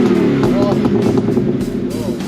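A Nissan R32 Skyline rumbles nearby at an outdoor car meet, its exhaust burbling steadily and loudly throughout, with a couple of rising engine swells and people talking over it.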